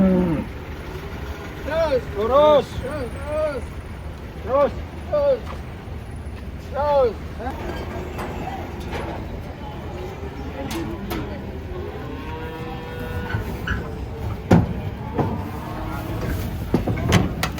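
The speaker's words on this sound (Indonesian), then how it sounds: "Datang lagi guys sapinya." Giant cattle being unloaded from a truck let out several low, drawn-out moos early on, with people talking and calling nearby and an engine rumbling underneath.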